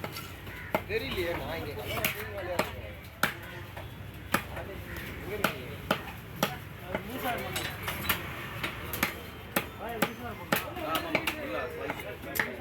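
Fresh pulli paarai fish chopped into pieces with a knife on a board, giving sharp, regular chops every second or so over about twelve seconds, up close, with a faint background of kitchen clatter.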